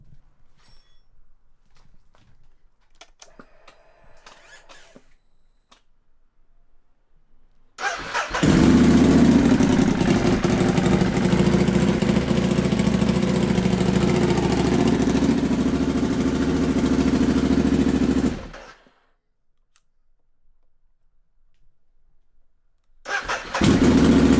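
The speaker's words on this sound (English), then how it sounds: "we're gonna give the bike the first start up after replacing our starter" A Ducati motorcycle engine fires up right away after a starter motor replacement, roaring loud and steady for about ten seconds before cutting off, then restarting at the end, following quiet faint handling noises.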